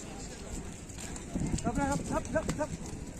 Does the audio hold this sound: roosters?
no